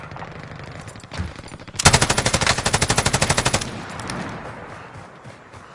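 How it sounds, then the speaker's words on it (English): Video game automatic weapon fire in a rapid, loud burst of evenly spaced shots lasting nearly two seconds, preceded by a few scattered single shots and fading into ambient rumble. "Enemy vehicle! Shit! I'm taking fire!"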